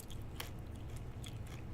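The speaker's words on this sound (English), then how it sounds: "chewing my thing here." A person chewing food close to the microphone, soft repeated biting and mastication crunches with a couple of sharper bites, steady and unhurried throughout.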